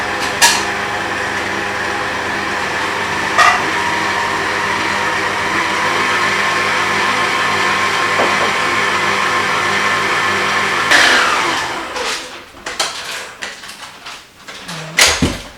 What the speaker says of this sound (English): slowly, slowly, while it's still mixing, add butter a little bit at a time